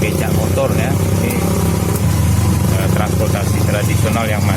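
A motorized becak rickshaw engine drones steadily while riding through Banda Aceh streets, a continuous loud mid-pitched hum with traffic noise and occasional voices throughout.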